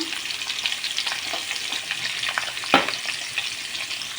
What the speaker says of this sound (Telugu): ఇలా కొద్దిగా పసుపు వేసుకొని ఫ్రై చేసుకుంటే బాగుంటుంది